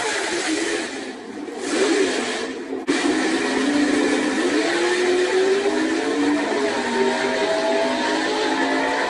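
Fox Body Mustang street drag car with a prototype TFSR intake, its engine a loud, continuous close roar with a brief dip before it holds steady.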